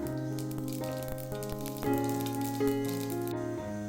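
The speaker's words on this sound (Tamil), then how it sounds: "1 ஸ்பூன் கடுகு, அது பொரியட்டும்." Hot oil crackles and sizzles steadily as mustard seeds pop and spatter, with a low humming tone running underneath throughout.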